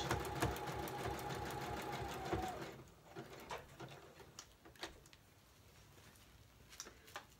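A sewing machine worked by a foot pedal set on top of a desk runs in a fast rattling burst for about three seconds, then stops, leaving a few scattered clicks and faint taps at low volume.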